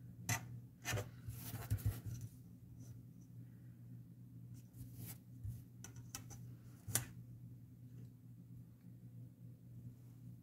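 A pencil draws a light line on craft paper, giving soft, faint scratching strokes with a few sharper ticks and taps, close and quiet under a low steady hum.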